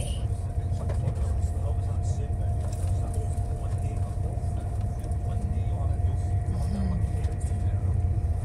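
Inside a moving train on a 40-minute journey: a steady low rumble and rolling drone with faint rattles, continuous and moderately quiet, with no talk.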